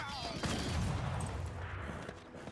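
Tank attack on an enemy unit in Civilization VI: a dense burst of gunfire-like volleys and booms rolls continuously through the moment, loud and busy with no talk over it.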